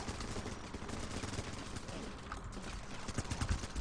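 Gunfire in the video game Running with Rifles comes as dense, continuous bursts of shots, fairly faint and distant-sounding throughout, with no voice.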